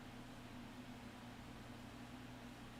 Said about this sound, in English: the white noise of the air conditioner